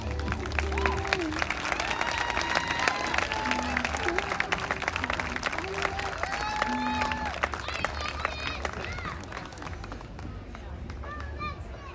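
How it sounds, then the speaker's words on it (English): Audience applause welcoming pageant contestants back onstage at a live event, a steady sustained clapping crowd running the whole stretch under music with sustained tones and a little speech babble. "Let's welcome them with a big round of applause back to our stage"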